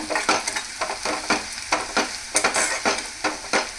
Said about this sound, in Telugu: జస్ట్ 1 నిమిషం ఇలాగూ మనం ఫ్రై చేసుకుంటాం